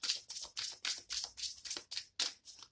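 Rapid riffling of oracle cards being shuffled, repeated about nine times in a steady rhythm, close and fairly quiet, with no talking.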